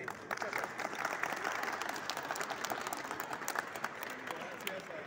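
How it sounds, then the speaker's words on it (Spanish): An audience applauds at the closing ceremony of the II Copa Torre 64, with dense, steady clapping that fills the whole stretch at an even level and faint voices mixed in. "Aplausos para todos ustedes por este gran apoyo y este gran evento."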